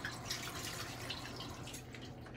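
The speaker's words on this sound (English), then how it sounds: "And I'm going to turn my cold water" Cold water running from a kitchen tap into a sink, a steady close splashing and trickling stream with no pauses.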